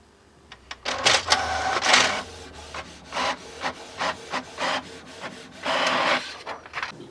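A basic printer prints a page, with a sequence of mechanical whirs, rubbing feed strokes and short clattering pulses in an uneven rhythm, close and moderately loud, alone without speech.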